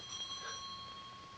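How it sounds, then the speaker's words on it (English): A house bell rings once in a period drawing room, a faint, clear metallic ring with a lingering tone that fades out quietly. "Answer the bell."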